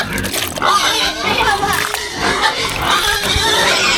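Pigs jostle and compete over food, giving loud, rough grunts and squeals up close, mixed with someone talking over the commotion.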